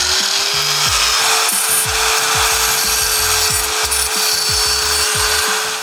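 A power tool grinds and rasps steadily on a bare metal corner of a 3rd generation Toyota Tacoma TRD Offroad, a loud continuous whine with rhythmic scraping strokes throughout.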